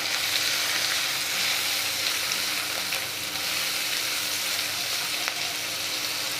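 Beans and potatoes frying in a pan with salt and turmeric give a loud, steady sizzle, with occasional soft stirring scrapes, heard up close and without pause.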